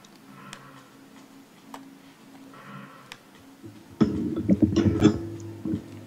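A person coughs several times at close range, with sharp bursts toward the end following quieter clicks and small throat sounds earlier.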